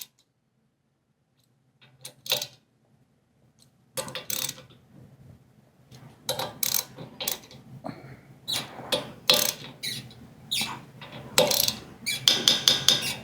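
A ratchet wrench tightening the seat clamp bolts on a Go Power Sports Rascal GT Cruiser mobility scooter, starting quiet after a pause and building into a run of close, loud back-and-forth clicking strokes.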